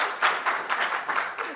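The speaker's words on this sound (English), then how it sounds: "I think you can give Dan a round of applause" Audience applause for a panelist named Dan at a community workshop session, a short burst of moderate clapping that surges in uneven waves.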